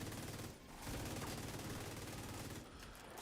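Sustained light machine gun fire in a video game, a rapid, even rattle of shots running almost throughout, briefly dipping near the start and end, fairly faint overall.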